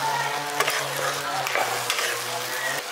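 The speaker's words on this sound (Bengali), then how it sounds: "এটাকে কন্টিনিউ নেড়ে চেড়ে এটাকে করে যাবেন আচারটাকে" Jujube pickle being stirred steadily in a pan, a soft scraping swish over a low cooking sizzle, close and continuous, with a steady low hum underneath.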